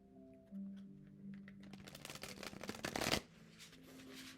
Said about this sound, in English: Do you like the sound of the shuffling?